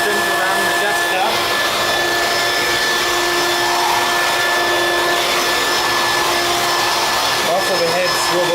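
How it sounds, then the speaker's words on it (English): A Hoover Quik Broom Cyclonic S2541 stick vacuum runs continuously up close, a loud steady whine with a constant high tone over airy motor hiss, and small shifts near the end. "let's go and power it up here"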